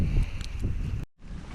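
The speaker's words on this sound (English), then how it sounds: "It's so windy though." Strong gusts during a snowstorm buffet the microphone in rough, uneven bursts, which break off briefly and then return.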